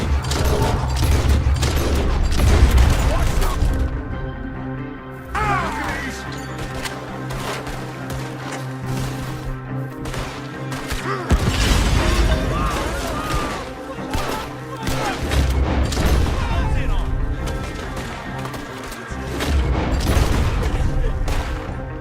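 Gunfire in Red Dead Redemption 2 comes as a chaotic night shootout, with dense volleys of shots and bangs, loud and close, coming in waves over game music and occasional voices.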